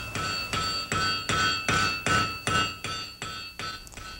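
A blacksmith strikes a hammer on an anvil ten times in a steady, even rhythm, each blow ringing with a bright metallic tone that decays briefly before the next, close and loud with no talk.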